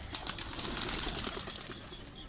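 High-flyer pigeons flapping their wings, a quick fluttering rustle of beats at close range, with faint coos and no speech.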